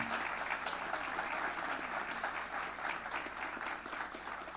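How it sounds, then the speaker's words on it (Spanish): Audience applause at the inaugural session of a provincial legislative chamber, welcoming the provincial prefect of Santo Domingo de los Tsáchilas; a dense, steady wash of many hands clapping fills the room throughout at an even level. "para quien solicito un gran aplauso, por favor, de bienvenida en esta mañana"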